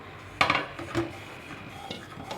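A lid comes off a cooking pot of steamed rice-flour dough with a sharp metallic clank, followed by a softer second knock. A quiet kitchen hum continues between the two.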